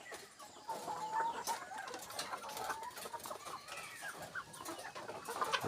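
Several chickens cluck and murmur continuously close by, with scattered sharper calls rising over a busy barnyard background.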